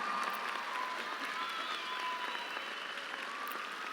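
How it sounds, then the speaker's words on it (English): A large crowd applauds steadily at a high school graduation ceremony, a dense wash of clapping that holds at an even level throughout. "Please give them a round of applause."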